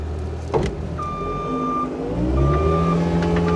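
A 2009 Caterpillar 289C rubber-track skid steer loader's diesel engine cranks with a sharp mechanical clunk, then settles into a steady low rumbling idle with a faint whine on top, close by.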